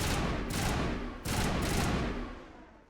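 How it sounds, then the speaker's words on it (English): Two sharp bursts from the Banshee gun in the Mass Effect video game, each a quick cluster of rapid shots fired close up, with short reverberant tails trailing after them. "Let's try the Banshee. Okay, yep, it's a burst."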